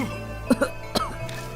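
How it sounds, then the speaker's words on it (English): A video game character gives a few short coughs or throat-clearing bursts, two quick ones then another, close up over a steady background hum. "In his excitement, he starts coughing."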